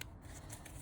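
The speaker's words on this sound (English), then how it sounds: "I'll do one more shuffle." Tarot card deck being shuffled, a quick soft riffle of cards lasting under a second, faint and close with no talking.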